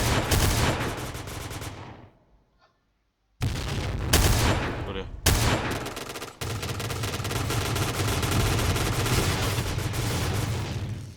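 Sustained automatic fire from a Noveske N4 rifle at long range in the Point Blank shooter game, loud and continuous bursts with a brief silent gap and a few short pauses between volleys.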